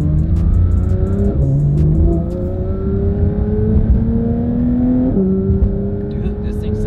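A V6 sports car engine revs repeatedly while warming up, loud and close, its pitch climbing in rising sweeps and dropping between pulls with a whirring, race-car-like tone.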